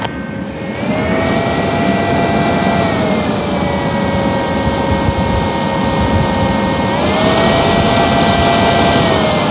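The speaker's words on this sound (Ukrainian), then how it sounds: "такий шум при навантаженні приблизно 390 Вт" A loud, constant whirring cooling-fan roar from a GYS Power Pack 520 portable power station under about 390 W load, with a steady whine on top, its pitch shifting up and down slightly a couple of times as it runs.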